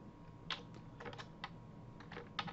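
Quiet clatter of typing on a computer keyboard, irregular bursts of keystrokes in small clusters, close and alone.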